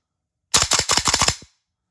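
A custom short PTS Maten .308 gas blowback airsoft rifle fires a quick string of about nine semi-auto shots, each a loud, close, sharp crack in rapid, even succession, then silence.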